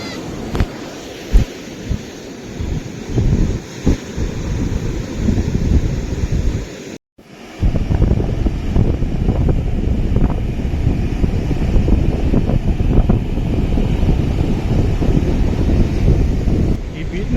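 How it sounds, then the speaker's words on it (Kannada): Ocean waves roll onto Eco Beach at Honnavar in the calm summer season, a loud, continuous rumbling wash with heavy wind buffeting the microphone. A brief cut comes partway through. "ಈಗ ಬೇಸಿಗೆ ಕಾಲ ಆಗಿರೋದ್ರಿಂದ ಇಲ್ಲಿ ವೇವ್ಸ್ ಎಲ್ಲ ಸ್ವಲ್ಪ ನಾರ್ಮಲ್ ಆಗಿದೆ"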